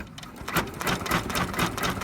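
Embroidery sewing machine stitching a burp rag made from a cloth diaper, giving a close, steady, fast mechanical rattle and whir with a regular stitching rhythm.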